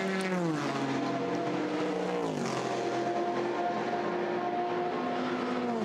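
Race cars at Le Mans running nose to tail, a loud sustained engine roar with pitch sweeping down as they pass close by, then holding steady with no voice over it.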